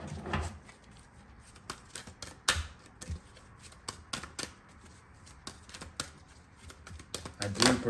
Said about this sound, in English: so just hang tight with me as I shuffle